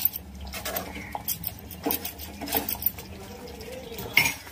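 A prawn curry being stirred in a pan over a low flame, with the spoon clinking and scraping against the metal in irregular bursts as the liquid simmers, close and moderately loud.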